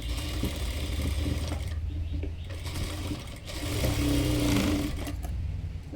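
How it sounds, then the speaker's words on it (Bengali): Sewing machine double-stitching the shoulder seams of a child's fatuya, running in a steady continuous whir close by with brief slowdowns and pauses between bursts. "দুটি শোল্ডারে আমি সেলাই করে দিচ্ছি, এখানে ডাবল সেলাই দিয়ে নিচ্ছি"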